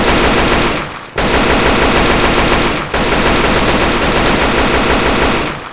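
An RPK machine gun fires in a video game, loud close full-auto bursts in long sustained runs, broken by two brief pauses.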